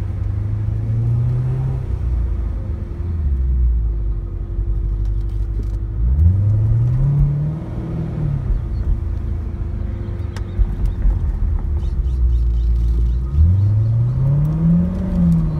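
A supercharged C7 Corvette engine with an Edelbrock E-Force supercharger rumbles steadily, rising in pitch in repeated revving sweeps, loud and close with no talking.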